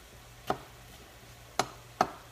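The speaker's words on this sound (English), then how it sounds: "I'm just gonna finish here with the tomato, dicing it coarsely diced." A knife coarsely dicing tomato taps a cutting board three times, quiet and sparse, with one lone knock and then a closer pair separated by near silence.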